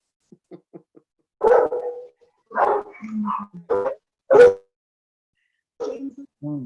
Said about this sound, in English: The dogs are joining in the Pachamama Raymi.